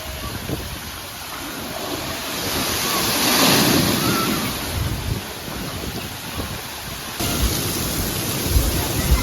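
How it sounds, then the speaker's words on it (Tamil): At Sawadi Water Park in Muscat, a giant bucket dumps water. The steady, broad rush of splashing water swells loudest near the middle and then continues as a dense wash, with no voices. "இப்போ பக்கெட் தண்ணி வரும் பாரு"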